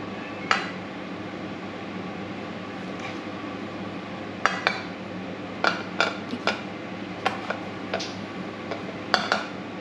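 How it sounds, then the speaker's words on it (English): Red beans cooking in a pot are stirred with a utensil, making scattered light clinks and scrapes against the pot over a steady low background, with several sharper knocks toward the end. "Give that a good stir"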